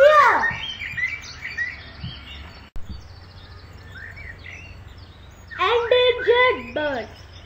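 Birds call at Vedanthangal bird sanctuary, with a burst of chirps at the start and a clearer run of tweeting calls near the end, over a low steady background hum.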